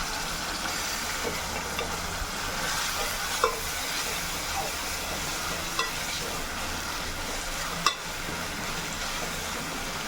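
Onions sauté in hot oil for a beef curry gravy, a continuous loud sizzle broken by a few sharp clinks of a ladle stirring the pan.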